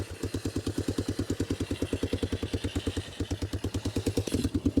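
An old three-wheeler engine fitted with a Chinese carburetor runs at a steady, loping idle, its loud close putter firing evenly throughout with a brief rev near the end.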